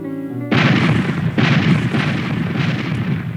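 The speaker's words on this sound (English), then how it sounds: "The Cumberland opened fire, but the shots bounced harmlessly off the Merrimack's side." Heavy naval cannon fire from a Civil War warship, the USS Cumberland, aimed at the ironclad Merrimack: deep booming blasts with a rumbling, sustained roar that swells again partway through, loud and close, with no talk.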